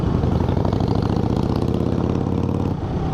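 A Harley-Davidson motorcycle engine idles with a steady, rapid chugging rumble, close and loud throughout, briefly dipping near the end.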